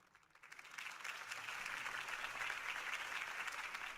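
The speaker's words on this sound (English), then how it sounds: "If only Mr. Wayne, my campaign's largest backer, could have heard that applause" Crowd applause after a political campaign speech in a film, clapping that swells in from quiet over the first second into a dense, sustained ovation from a large gathering, heard at some distance.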